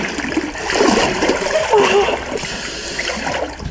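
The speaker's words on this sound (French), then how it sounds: "L'impression de marcher dans de la vase ou un truc comme ça là." Wading through cold, muddy brown water in the Peloponnese, Greece: close splashing and sloshing steps with gurgling water over a few seconds, with a voice briefly heard.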